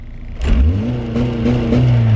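A turbocharged Honda Civic wagon engine holds on two-step launch control, a loud sustained rev that rises in pitch and then stays high with a rough, crackling pulse, close and alone.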